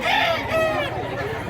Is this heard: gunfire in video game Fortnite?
no